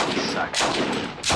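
Bursts of suppressive gunfire from the wargame Steel Panthers: World at War, two or three loud, close, crackling volleys in quick succession with no talk over them.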